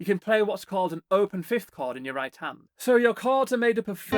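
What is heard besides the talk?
No everyday noise stands out behind the speech.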